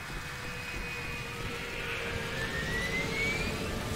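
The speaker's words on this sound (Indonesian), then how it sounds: "Suara jet, mobil, pesawat." A jet aircraft engine in the video game Left 4 Dead 2 gives a steady low rumble with a faint rising whine, heard alone in a distant, unbroken wash.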